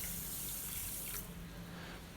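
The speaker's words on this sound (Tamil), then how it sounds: "இது கூடவே 1 கப் அளவுக்கு தண்ணி சேர்த்திக்கலாம்." Water poured into a pan holding sugar to make syrup for laddu, a steady splashing stream that runs close and fairly loud for about a second, then a softer lingering trickle.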